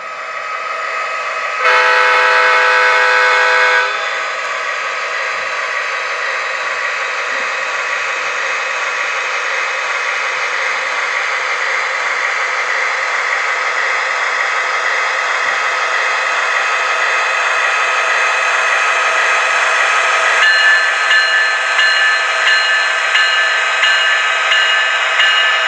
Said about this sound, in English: I will show the freight yard sound sequence of this locomotive